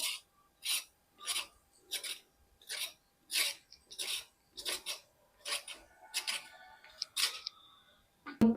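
Carrots being peeled by hand with a light touch while making gajar ka halwa, a series of about a dozen short, crisp rasping strokes in a steady rhythm, close and clear with quiet gaps between them.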